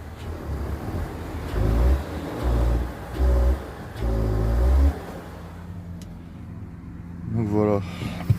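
BMW engine fitted with an ethanol kit idling and revving unevenly, low rumbling bursts rising and falling several times in an unstable rhythm, close and fairly loud, with a short higher whine near the end.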